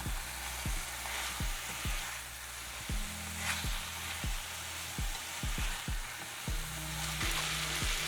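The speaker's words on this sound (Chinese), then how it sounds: "放入2大匙的料理米酒，拌炒均匀" Chestnuts, mushrooms and tofu stir-fried with cooking rice wine give a steady close sizzle, cut by repeated rhythmic scraping strokes of stirring throughout.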